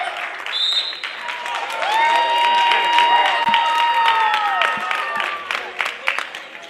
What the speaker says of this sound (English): A lot of these fans that you hear cheering for Southeastern Illinois are from Marshall County